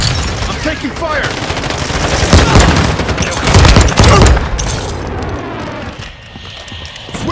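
Sustained automatic gunfire and rapid shots in Call of Duty: Modern Warfare II, loud and dense throughout with bursts peaking mid-clip, mixed with game effects and an occasional voice beneath.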